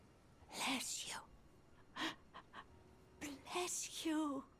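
A sneeze in the fantasy game Elden Ring comes in two short, breathy bursts, the second one stronger and tailing off into a voiced, wavering sound, with quiet gaps and soft background ambience between them.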